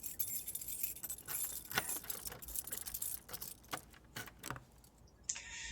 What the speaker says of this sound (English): I fumble my keys out and stick the metal piece into the hole.